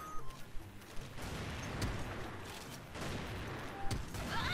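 Shooter video game gunfire crackles in bursts, with several sharp shots spread across a fairly quiet, busy background of game sound.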